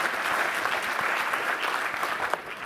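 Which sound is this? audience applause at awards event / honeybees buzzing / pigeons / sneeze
audience applause at awards event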